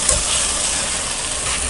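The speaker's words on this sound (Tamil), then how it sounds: "இப்போ நம்ம தக்காளியும் சேர்த்து வதக்கிக்கலாம்." Tomatoes sauté in a pan for mutton biryani made with seeraga samba rice, giving a steady, close sizzling hiss that holds even throughout without pause.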